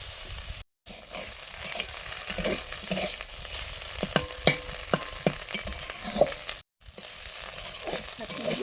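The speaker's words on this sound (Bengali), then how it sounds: "ভালো করে ভেজে নেব" Food sizzles in a pan during biryani cooking, with a continuous frying hiss, rhythmic spoon clacks from stirring and brief gaps in the sound.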